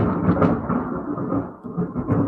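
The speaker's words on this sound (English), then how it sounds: "Can you hear that thunder?" Thunder from a storm rumbling continuously, a dense low roll swelling and fading over a couple of seconds, heard alone without voices.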